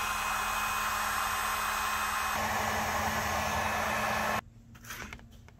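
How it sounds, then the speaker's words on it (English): A heat gun blows steadily and loudly while vinyl wrap is worked onto a car steering wheel, a constant whooshing roar that cuts off abruptly near the end, leaving faint handling noises. "stick it on, and then work it with a heat gun."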